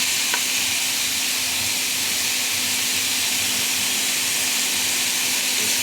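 Marinated meat for pancit guisado fries in a pan with a steady, loud, continuous sizzle and hiss that does not let up.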